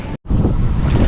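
Strengthening wind and choppy waves around a small yacht as a storm builds: loud, gusty buffeting across the microphone over rushing water, broken by a brief dropout near the start, then continuing unabated.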